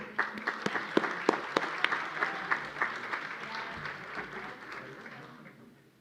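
An audience at a legal conference on international justice applauds, the clapping starting with sharp distinct claps, then blending into steady applause that gradually fades away over several seconds.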